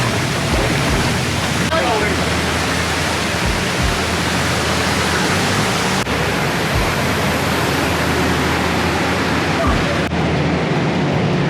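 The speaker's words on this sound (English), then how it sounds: "Sounds like a hot waterfall." Steady, loud rushing water from a geothermal hot spring, like a waterfall, fills the whole clip, a constant dense roar with no clear pauses.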